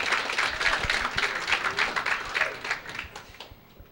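Crowd at a bowling tournament at North Hill Bowl in Minot, North Dakota applauds steadily, a dense wash of many hands clapping at close range that tapers off near the end.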